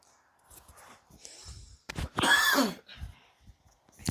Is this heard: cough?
yes